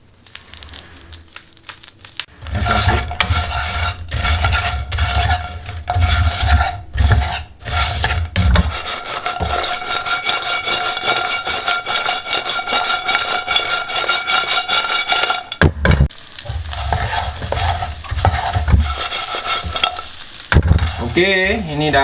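Honey sesame chicken is stirred in sticky sauce in a hot pan, a continuous wet scraping and sizzling that runs steady and loud for most of the clip, with a brief pause before resuming.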